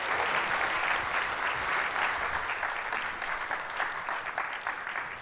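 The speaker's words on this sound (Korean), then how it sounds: "따뜻한 박수 도와내 주시기 바랍니다" A congregation applauds warmly during a Christmas baptism service in a church, with steady, dense clapping from many hands that fades slightly toward the end and has no talk over it.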